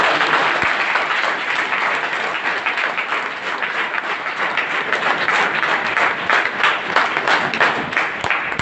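An audience at an RCM Khurja star pin celebration breaks into loud, sustained applause, dense clapping filling the hall evenly from start to finish.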